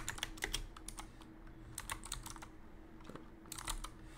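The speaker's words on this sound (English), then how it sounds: "can't type for shit" Quick bursts of typing on a computer keyboard, close and crisp, with rapid irregular key clicks, a brief pause in the middle, then another flurry.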